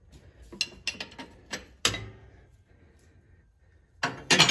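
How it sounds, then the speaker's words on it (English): A 1/16 wrench breaks free the old timing chain tensioner on a Polaris Ranger RZR Ace 570 engine, giving a quick run of close ratcheting clicks, a sharper metallic snap, a pause, then a loud final burst of clicking. "take an 1/16 wrench, put it on your old tensioner,"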